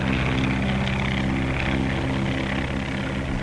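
A 1935 propeller airplane flying while skywriting, its engine giving a steady, loud droning hum with even harmonic throb throughout.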